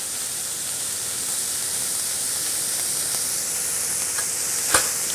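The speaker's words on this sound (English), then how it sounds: "Maybe bump the heat up just a tiny bit so you get a nice sear on the other side." Steak sears in a hot pan with a steady, close sizzle and hiss that fills the whole stretch, broken by one brief sharp pop near the end.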